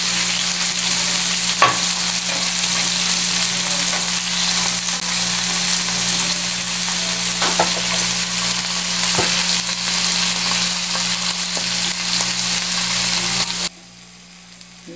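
Strips of dried salted beef fry loudly in a pan, a dense continuous sizzle with occasional stirring knocks, running steadily for most of the clip before cutting off abruptly near the end.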